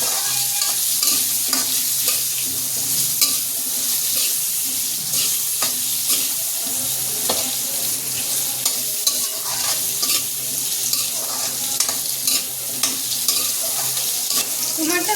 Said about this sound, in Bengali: এবার কুমারটা একটু ভেজে নেবো